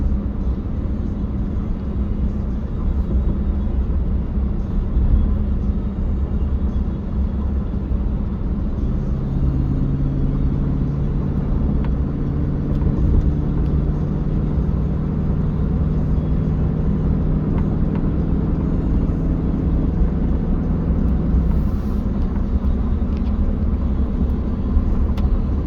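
A 2009 Chevy Silverado pickup with a 5.3 V8 on the move, a steady low engine drone and road rumble from inside the cab, with a brief rising engine tone midway as it accelerates.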